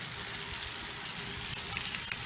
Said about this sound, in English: Heard it ignite.